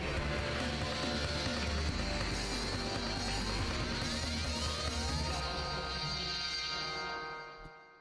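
A fighting game music track builds up as drums enter under a rising synth sweep, dense and loud throughout with the riser climbing in pitch before the mix thins and cuts out near the end.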